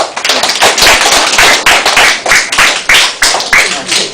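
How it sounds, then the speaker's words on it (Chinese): A school crowd of children and teachers claps to welcome guides at a campus plant-learning event, loud and near, in repeated surging bursts of dense clapping. "我们现在掌声来欢迎他们"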